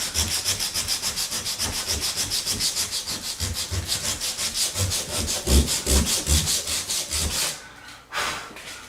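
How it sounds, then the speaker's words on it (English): Someone sands down the corner of a wooden door by hand with quick, rhythmic back-and-forth rubbing strokes, loud and close, ending in a brief pause and a final stroke. "we'll just take a little corner piece, sand that down"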